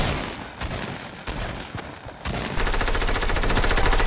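Assault rifle fire in a video game rattles nearly without pause, first as ragged bursts, then as a dense, rapid, continuous stream of loud shots.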